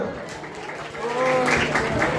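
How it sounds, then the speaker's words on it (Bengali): Group applause breaks out at a flower-garland welcoming ceremony for a guest, a steady mass of clapping that swells after the first second and continues with voices mixed in. "উত্তরীয় পরিবেশ সবাই মিলে জোরে হাততালি হবে তো"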